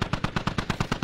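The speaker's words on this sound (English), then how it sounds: "Did he just gun down 2 guys?" Rapid automatic gunfire in a video game, about ten evenly spaced loud shots in a fast steady burst, close and alone with no talking.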